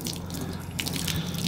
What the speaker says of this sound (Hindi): कुछ थोड़ा सा और फ्रेश पानी इस पर बहाते हैं।